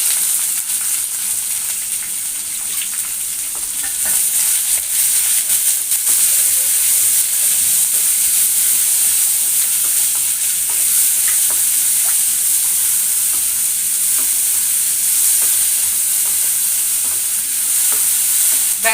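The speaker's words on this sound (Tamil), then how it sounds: "வெங்காயம் லைட்டாக வதங்கினோடனே எடுத்து இதை கொட்டிடலாம் மாவில்." Chopped onions for adai dosa fry in a pan, giving off a continuous bright sizzle with occasional stirring scrapes, loud and close for the whole stretch, with no voices.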